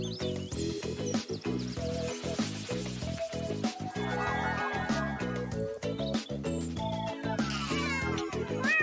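A cat meows repeatedly and loudly, drawn-out tonal cries in a continuous run, set over a bright musical backing.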